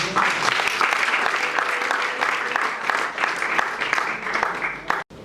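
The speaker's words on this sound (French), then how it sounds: "on va encore applaudir pour M. Bruno." A conference audience applauds in a full, continuous round that holds steady for about five seconds, then stops abruptly, with a faint voice mixed in.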